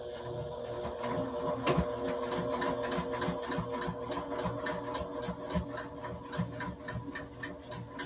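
A sewing machine stitches applique onto a scarecrow, its rapid, even needle ticking running steadily and fairly quietly from start to finish.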